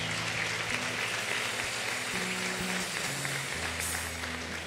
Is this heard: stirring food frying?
no